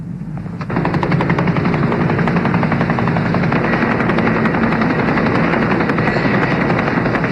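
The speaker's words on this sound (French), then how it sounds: "L'hélicoptère est là." A helicopter thunders loudly and steadily nearby, its rotor producing a fast, even chopping pulse that swells in abruptly and then holds under a rough roar.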